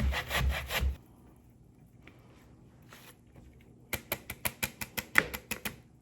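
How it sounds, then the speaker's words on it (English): Cassava (yuca) grated by hand on a grater: a loud burst of scraping up close, a quiet pause, then a quick run of about ten sharp, rhythmic rasping strokes. "So all my yuca is grated."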